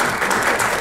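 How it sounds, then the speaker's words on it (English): A crowd gives a brief burst of applause at a talk, dense and close clapping lasting under a second. "Let's give him a nice round of applause for Eric."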